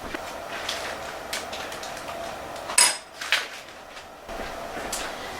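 A spoon clinks and scrapes against a pot as a heating sugar mixture for a paleo German chocolate pecan pie filling is stirred, with a few sharp metallic knocks standing out over a soft, steady background.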